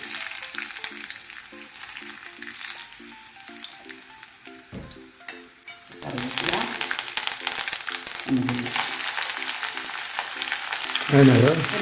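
Green chillies and chili powder fry in hot oil, a steady close sizzle and crackle that grows denser and louder partway through, with stirring scrapes and faint talk underneath.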